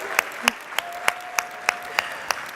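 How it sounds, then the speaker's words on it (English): Sparse applause at an annual business conference for industry groups: distinct, evenly spaced claps, about three per second, sharp and fairly close, over a quiet background hum. "Let's give a round of applause to all of our industry groups."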